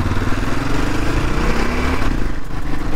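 A 1991 Suzuki DR 650 motorcycle engine runs close by, a loud, rough, continuous single-cylinder thrum with uneven pulsing, no voices over it.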